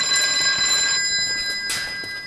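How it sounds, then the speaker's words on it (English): An old telephone bell rings with a steady, bright metallic trill that holds for a couple of seconds before a short fresh burst; it is fairly loud and close, with no voices. "It sounds like an old phone ringing."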